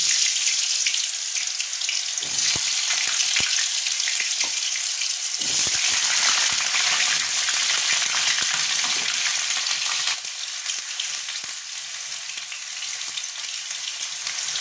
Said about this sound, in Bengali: আলুটাকে লাল লাল করে একটু ভেজে নেব।